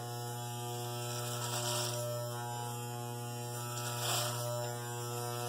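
Corded electric hair clippers with a 1-inch guard trimming a beard against the grain give a steady, close, droning buzz with a strong hum throughout, swelling slightly as the blades push through the hair.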